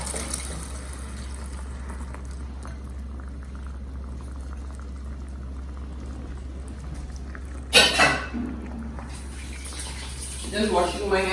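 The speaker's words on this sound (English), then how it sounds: "Just washing my hands." Hands being washed under a running tap in a home kitchen: a steady hiss of flowing water over a low electrical hum, with a brief louder splash near the end.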